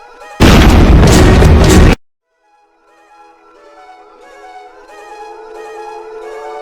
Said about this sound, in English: I think you should know that right now, explosion.